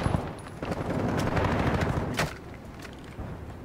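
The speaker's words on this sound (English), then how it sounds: "Oh, the sniper's still shooting at us." Gunfire in Call of Duty DMZ comes as a rapid clatter of shots and cracks, loud at first, then thinning into a few scattered reports.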